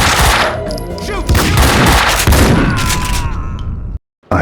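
Gunfire in the video game Max Payne 2, a loud dense burst of shots and booms packed together, close and harsh, ending abruptly in near silence.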